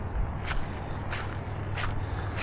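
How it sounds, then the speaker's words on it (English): Highway car traffic rumbles near a lakeside hiking path in Franconia Notch, with several vehicles whooshing past one after another over a constant low drone. The cars sound fairly close, and nobody speaks. "All you hear is cars instead of nature."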